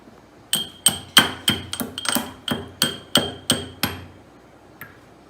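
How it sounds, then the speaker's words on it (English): Peppercorns being smashed for herbal tea, heard as about a dozen hard, ringing metallic pounding strikes in an uneven rhythm, close and fairly loud, followed by one faint final tap. "Now you need to take some peppercorn and smash it again or paste it."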